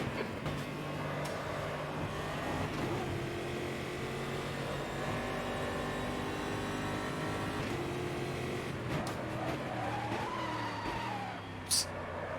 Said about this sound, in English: Locking up the tires there.